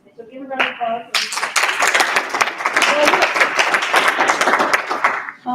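An audience at a data engineering meetup breaks into sustained applause, dense clapping that fills the room for several seconds after a brief voice at the start.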